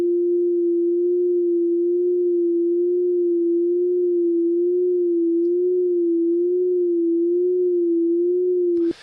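A pure sine tone passes through a chorus effect with a varying delay time, producing a steady hum with a gentle, slow wavering in pitch that holds for nine seconds and then stops abruptly.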